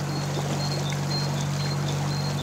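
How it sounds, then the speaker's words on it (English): Surface water running off fields beside a canal towpath, a continuous, even rushing and trickling wash heard fairly close, with a low steady hum underneath and no one talking. "There's a lot of surface water coming off fields"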